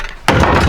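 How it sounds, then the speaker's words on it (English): A heavy glass panel from a demolished glass wall thrown into a dumpster gives one sudden loud crashing impact with a sustained rattling clatter and no talk. "A heavy one. Let's see if the glass breaks."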